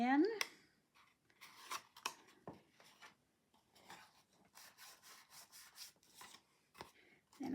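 Paper flaps on a Christmas gable gift box are folded and glued, making soft, close rustles and crinkly rubs in short irregular bursts, with a voice speaking over the handling.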